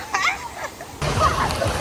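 Splashing in the pool at the bottom of a water slide at a Six Flags park, with brief bursts of sloshing water and a voice or two mixed in.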